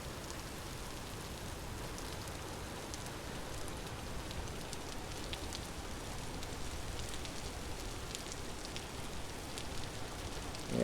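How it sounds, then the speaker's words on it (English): Steady rain in the survival game Vintage Story, a dense, even wash of droplet noise that stays constant and moderately loud throughout with no talking over it. "A lot of rain in this episode."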